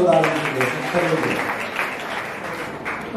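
A crowd claps loudly and continuously for an elderly person whose age has just been announced, with a voice talking over the start before the applause carries on alone.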